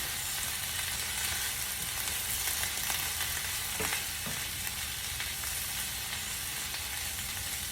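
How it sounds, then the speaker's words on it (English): Cabbage stir-frying and wilting in a hot pan, a steady broadband sizzle running throughout at even loudness, with a couple of soft stirring scrapes midway and no talking. "I just want to get my cabbage cooked down and wilted."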